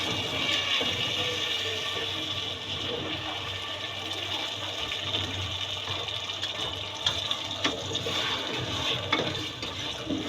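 A cup of water poured into a pan with sugar while making chana dal halwa gives a steady, close rushing and splashing that runs unbroken for about ten seconds, with no voices over it.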